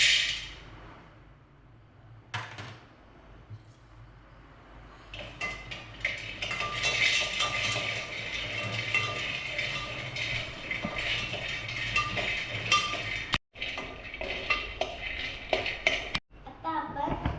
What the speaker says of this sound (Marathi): आता आपण पिस्ता भाजून घेऊया.